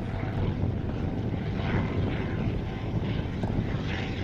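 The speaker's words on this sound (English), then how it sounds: "we have another airframe in the sky, the very distinctive Shuttleworth triplane" The Shuttleworth triplane, a vintage aircraft at an airshow, drones overhead with a steady low propeller hum mixed with wind noise, moderately loud and continuous.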